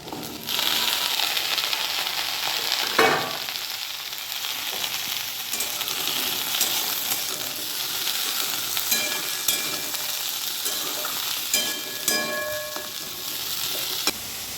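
Bitter gourd and onion fry in a hot pan on a gas stove at home, a constant close sizzle broken by sharp utensil scrapes and stirring knocks.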